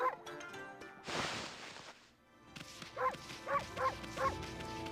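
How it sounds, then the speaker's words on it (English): Short yelping barks from the wolf in the video game Okami, four quick cartoonish bursts in a row over game music, following a noisy swell earlier. "Bark."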